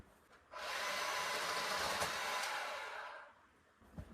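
A Bauer battery chainsaw cutting wood on an off-grid homestead, running rough and unsmooth through the cut: a steady, fairly faint whirring grind lasting about three seconds, starting and stopping alone without talk.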